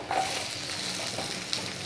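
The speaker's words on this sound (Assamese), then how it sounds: "এতিয়া কাটি থোৱা বিনখিনি ইয়াতে দি দিছোঁ" Freshly cut beans hitting a hot pan of oil, giving a brief, dense, even hiss of frying up close with no voices.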